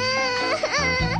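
A baby cries in the Tamil-dubbed Shin-Chan cartoon, a short, loud, wavering wail with a sobbing break near the end.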